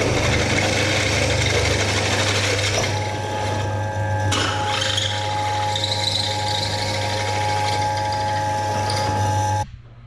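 A worn, overheated large drill bit bores out the last holes during cottage renovation work, giving a steady loud droning whine with squealing overtones that runs continuously for about nine and a half seconds before cutting off abruptly.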